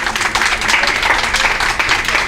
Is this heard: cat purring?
no